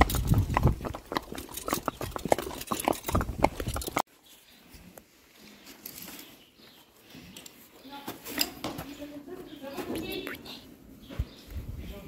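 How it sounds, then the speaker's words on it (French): Horses being walked back on foot after a trail ride, hooves clip-clopping with irregular clacks, sharp and close at first, then softer and more distant amid outdoor background noise. "on a fait environ 5 à 10 minutes de marche à pied pour détendre le dos des chevaux pour rentrer"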